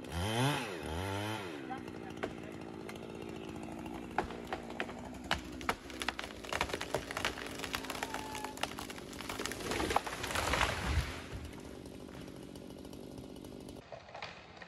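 A chainsaw revs and bites into a split, storm-damaged cedar being felled, its buzzing engine running beneath scattered cracks and knocks, moderately distant and uneven.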